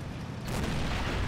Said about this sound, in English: That just blew up.